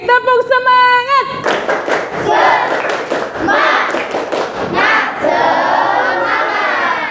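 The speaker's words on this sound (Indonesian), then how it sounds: "Sekali lagi, tepuk semangat." A classroom group repeats a patterned cheer clap, quick sharp hand claps in bursts mixed with chanting voices, following a spoken cue and continuing under lively group shouting.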